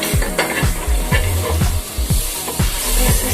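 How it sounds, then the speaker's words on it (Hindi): Butter sizzling on a hot tawa griddle, loud crackling fizz close up with rhythmic scraping strokes of a spatula against the metal, repeating about every half second. "हमारा जो तवा है उस पे हम बटर डालेंगे।"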